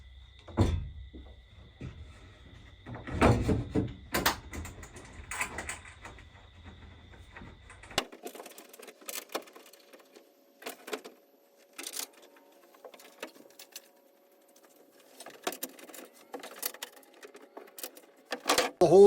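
Screws being driven to fasten a pre-drilled board inside a van during a build of wheel well boxes and lower wall frames: short, close mechanical bursts and knocks at irregular intervals against a quiet background.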